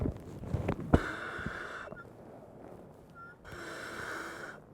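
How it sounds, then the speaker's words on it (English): A firefighter breathing through an air tank mask: sharp hissing inhalations and exhalations come in bursts close to the microphone, with pauses between breaths and no talk. "When I put this in, I'll be breathing the air that's in the tank."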